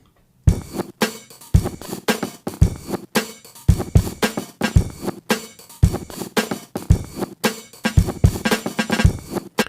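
Glitched reversed sample in Ableton layered with a kick and snare, punchy drum hits landing in a steady beat under stuttering, sharply cut fragments, loud and continuous for about nine seconds with no voice.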